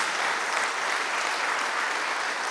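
A church congregation applauds after a morning teaching service, a steady, uniform patter of many hands clapping together, moderately distant and unbroken for a couple of seconds.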